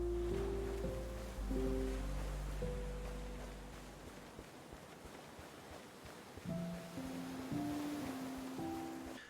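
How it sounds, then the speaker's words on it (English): Soft surf and tide wash steadily onto a beach in the Nintendo Switch game Hokko Life, a gentle continuous rush under calm melodic background music. "the sounds of the worlds, so the bugs, the water, the tide rolling in on the beach and stuff like that"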